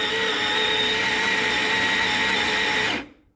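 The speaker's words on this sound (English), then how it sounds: "Really like this grinder, nice fluffy grinds there." A Sette 270 coffee grinder grinds about 17 grams of espresso coffee in a steady, loud, close whirring run of roughly three seconds that cuts off abruptly.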